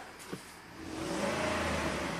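A Ford truck's 5.4L 3V V8 engine idles and then rises into a steady, even hum that stays smooth and constant, close by with no talking, after a VCT solenoid fault is addressed.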